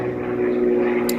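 A propeller airplane passes overhead, giving a steady droning hum with a low engine tone that runs throughout at moderate loudness, with a brief faint clatter near the end.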